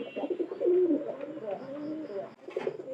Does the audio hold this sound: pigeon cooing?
yes